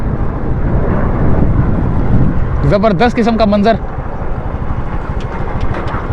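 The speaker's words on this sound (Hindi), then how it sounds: "ये एक हेलीकॉप्टर, खूबसूरत सा" A steady engine drone as a helicopter passes overhead near Malir Expressway, with someone speaking over it briefly.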